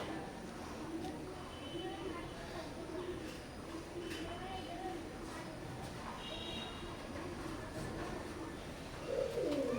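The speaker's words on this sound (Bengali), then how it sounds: "এখন স্ক্রিনে যে কবুতর জোড়া দেখতে পারতেছেন, নটটা সরাসরি ইম্পোর্টেড কবুতর, সাকিব ব্লাড লাইনের।" Imported Omani teddy pigeons coo in low, soft repeated calls over a noisy, continuous background.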